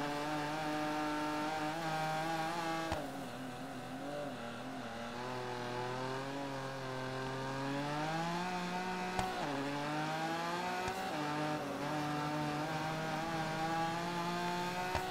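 A Porsche race car in the video game Gravel drones along at high revs, with a harmonic engine tone that rises and dips through gear changes and throttle shifts. The sound is steady and continuous with no talk.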